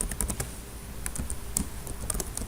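Code for React components is typed on a computer keyboard, producing rapid, irregular key clicks in short bursts, close and moderately loud, with no speech.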